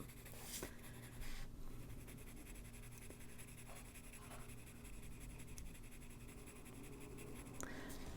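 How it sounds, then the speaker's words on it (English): A black pencil lightly shading a drawing of mushrooms, a soft, steady scratching and rubbing on paper heard up close and faint against a quiet room hiss. "just darken it very lightly with the black pencil and shadow that area up a little bit"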